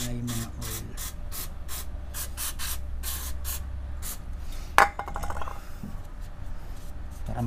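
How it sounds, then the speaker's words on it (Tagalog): Repeated bursts from a spray can hiss onto the underside of a Honda PCX 160 scooter during an oil change, up close and loud, in quick short pulses followed by a sharp clack. "spray natin yung ilalim. Para mawala yung mga oil."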